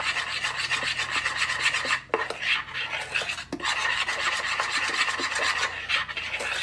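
Eggs for a classic brownie recipe are beaten in a bowl with fast, steady scraping and rubbing strokes, close up and continuous with a few brief pauses, no talking.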